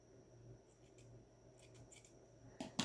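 Scissors snip stray strings off a fabric tassel, with a few faint, soft, scattered cuts over a low background hum, followed by a louder handling clatter at the end.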